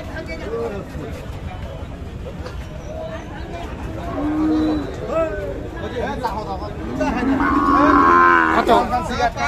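A Sahiwal bull moos loudly at a busy rural cattle market, several long low calls rising near the end over a constant hubbub of crowd chatter and people talking nearby.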